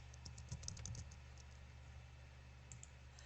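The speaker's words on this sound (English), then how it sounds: "So I'm going to type in Estella," Quiet typing on a computer keyboard while entering a name into an online records search, with a quick burst of key clicks near the start and a few scattered taps later.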